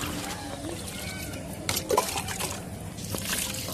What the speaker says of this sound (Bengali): এবার ফাইনালি আমি এতে মাটিতে জল দেবো।